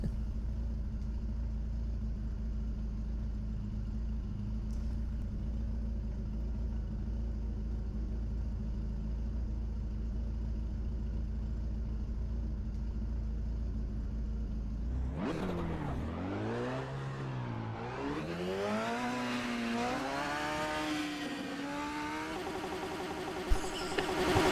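A steady low engine drone gives way to a race car revving hard in RaceRoom at Daytona, pitch sweeping up and down through several gear changes, loud and close.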